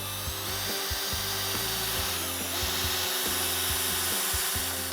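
A power drill drives a screw into a wooden board while a raised garden bed is being built, a loud close motor whine with stuttering pulses as the screw bites into the wood, no talking.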